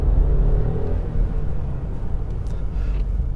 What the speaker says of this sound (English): you do get that 3-cylinder thrum kicking in, as I'll demonstrate now in a little acceleration